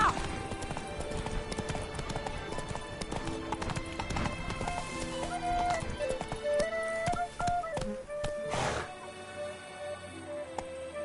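Horse hooves clip-clop rapidly on the ground in The Witcher 3, a steady close galloping rhythm mixed with game music and effects, a brief whinny-like burst near the end.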